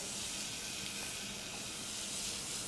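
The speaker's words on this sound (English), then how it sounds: "here a little sizzle" Flat piece of pork belly bacon frying in a pan, giving a steady, close hiss of sizzling fat that holds level throughout with no talk.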